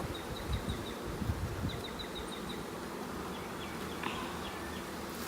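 Bees swarm around an open hive during an inspection, a dense continuous buzzing with individual insects whining past close by, no talking.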